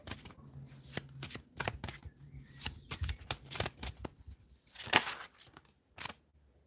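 Tarot cards being shuffled by hand, a series of crisp riffling and slapping bursts at close range, irregular in rhythm, with no talk over them.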